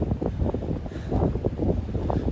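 Wind gusts across a lake, buffeting the microphone in rough, uneven low rumbles that swell and ease throughout, close and loud with no voices.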